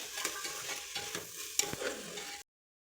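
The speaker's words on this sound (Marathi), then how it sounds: "तांदूळ एक 4-5 मिनिटं व्यवस्थित त्या तेलात परतून घ्यायचे." Rice that had soaked ten minutes is sautéed in oil in a pan, a close sizzle with rhythmic stirring scrapes and a few sharper clicks, then abrupt silence near the end.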